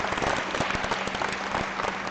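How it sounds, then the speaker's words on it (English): An audience at an FTC robotics league tournament awards ceremony in Ottumwa, Iowa, claps steadily for a short stretch, with individual claps audible within the dense applause. "I didn't let you clap for the whole time"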